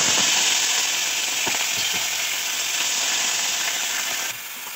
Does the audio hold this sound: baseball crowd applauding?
no